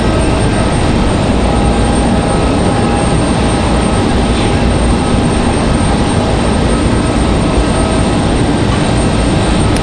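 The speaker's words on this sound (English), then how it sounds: "Nice, smooth, and dainty touchdown for the Delta CRJ." A Delta CRJ regional jet touches down at Raleigh-Durham airport, its steady, loud engine roar and broadband rumble holding evenly with no speech over it.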